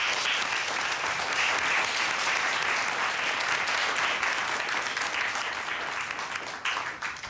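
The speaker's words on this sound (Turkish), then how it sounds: "İstersen arkadaşınızı başarısından dolayı bir kere de sınıfça alkışlayalım." A classroom of students claps together for a classmate, a dense, even round of applause lasting about seven seconds before thinning out and fading at the end.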